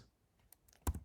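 Keys pressed on a computer keyboard while working in the Neovim terminal editor: a few light, sparse clicks, then a louder, sharper cluster of keystrokes near the end, with no talk.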